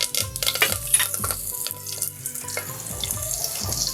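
Curry leaves and spices for tempering (asafoetida, cinnamon, cloves and bay leaves) sizzle and crackle in hot oil in a pot for khichdi osaman, a steady busy hiss with scattered pops, close and alone without talk.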